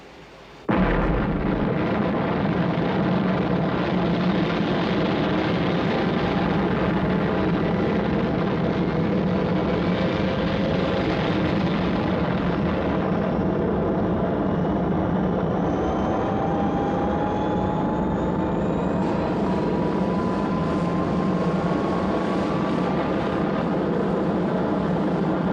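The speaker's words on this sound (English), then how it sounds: "Sector 4 reports unidentified rocket launch." A rocket lifting off at launch, a sudden loud roar bursting in and then holding as a dense, sustained rumble for the whole stretch, no voices over it.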